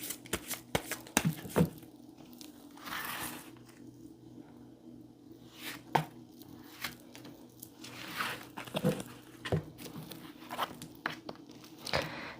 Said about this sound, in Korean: 바로 이 컬러 카드로 제가 두 장을 먼저 한번 펼쳐볼게요.